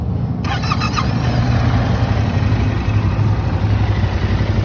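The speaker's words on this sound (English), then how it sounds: "let's go ahead and hear what the engine sounds like" A stock 2022 Yamaha YZF-R7 sport motorcycle idles on its factory exhaust, a loud, close, steady low throbbing rumble that holds evenly throughout, preceded by a short burst of beeping at the start.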